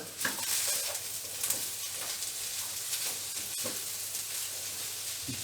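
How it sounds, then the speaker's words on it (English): Banana stem stir fry being mixed with sambar powder in a hot pan, a steady close sizzle with soft scraping stirs recurring through it, no voices. "I am going to mix it well."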